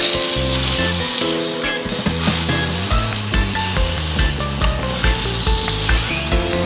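Samgyupsal pork belly, cut in half and with soft bone, sizzles loudly and steadily in a home pan, a dense crackling hiss with intermittent spatters and a deep rumbling hum beneath it.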